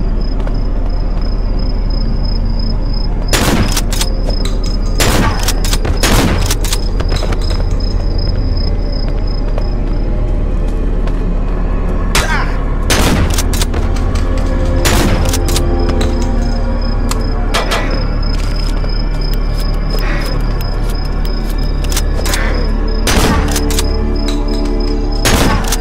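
Shotgun blasts and other gunfire in the horror video game Cry of Fear, heard as loud, sharp reports. Some come in quick clusters and others are spaced apart, all over a dense, constant game soundscape.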